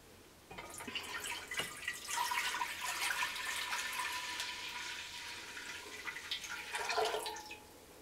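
Raspberry Gatorade sports drink poured into a container for dyeing, a steady liquid stream with dripping and splashing that runs for several seconds at close range, with no talking.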